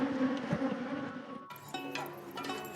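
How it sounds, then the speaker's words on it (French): Aggressive bees swarming around beehives at a shea honey harvest in Benin, a dense buzzing hum close to the listener with individual insects droning past, steady throughout. "Ici, les abeilles sont particulièrement agressives."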